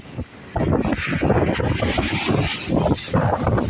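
Strong wind buffets the microphone while choppy sea water slaps around a small fishing boat in cold weather, loud gusty rumble building after a brief quieter start and holding throughout.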